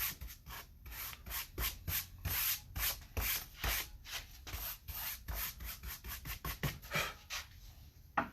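A dirty wooden workbench, gritty with sanding dust, is rubbed clean in quick repeated back-and-forth strokes, a steady brisk scrubbing rhythm, close and continuous.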